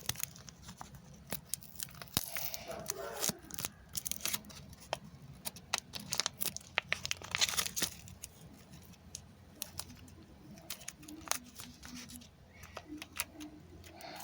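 A wrapped gift package being opened, with scattered crinkling, rustling and sharp tearing of paper up close, quiet overall with brief louder snaps and rips.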